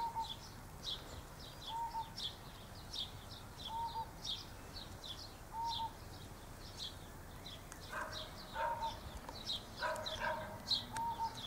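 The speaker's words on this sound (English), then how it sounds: "Complete with lambs bleating and dog barking." Outdoors beside a cactus garden, a dog barks in short, evenly spaced bursts at a moderate distance, while bird-like chirps keep repeating throughout; lambs may be bleating too, but they cannot be picked out.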